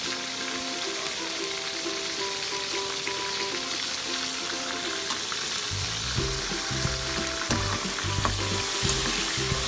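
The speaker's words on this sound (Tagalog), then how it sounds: "Haluin lang natin." Chicken neck, liver and gizzard sauté with a steady broadband sizzle in a pan, and from midway a rhythmic low scraping of stirring joins in, no voices.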